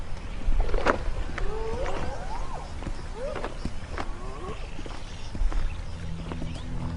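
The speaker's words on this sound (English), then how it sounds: "Thirsty zebra." Several squealing, braying zebra calls rise and fall over a few seconds outdoors, with a low rumbling background and a faint thud or two.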